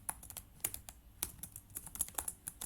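Quick, light keystrokes on a computer keyboard while Python code is typed, a steady irregular patter of soft clicks heard close but quietly, with no voices over it.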